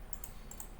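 A few quick computer keyboard keystrokes, pressing Shift and Enter, heard as two pairs of faint, crisp clicks against a quiet room hiss.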